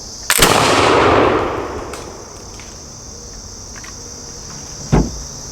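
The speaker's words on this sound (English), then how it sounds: "Ready to fire. Firing, here we go." A blunderbuss loaded with 30-caliber ball rounds fires once outdoors: a single loud, sharp blast that rolls off into a long decaying rumble, followed by a faint distant thud and a steady insect-like hum.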